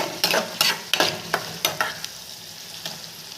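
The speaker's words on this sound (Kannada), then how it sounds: "ಅದು ಎಣ್ಣೆಯಲ್ಲಿ ಚಟಪಟ ಚಟಪಟ ಸಿಡಿಯುತ್ತೆ" Whole spices crackle in hot oil for karchikayi palya: a handful of sharp, close pops and a spoon scraping, bunched in the first two seconds over a faint sizzle, then thinning to a couple of sparse late snaps.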